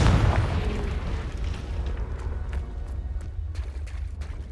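Spell explosions from Bombarda and Confringo in the Hogwarts Legacy video game: a loud booming burst at the start followed by sustained low rumbling and scattered crackling impacts, with no talk.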